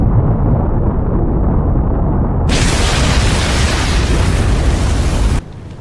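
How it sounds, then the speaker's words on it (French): An explosion of four orbs at once in a Naruto film: a loud, roaring blast of sustained rumbling noise that swells brighter halfway through, then cuts off abruptly. "Il pense vraiment que cela suffira pour résister à l'explosion simultanée de 4 orbes."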